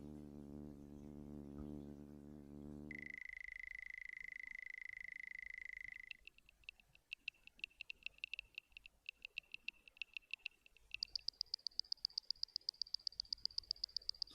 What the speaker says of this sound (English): Crazy cricket.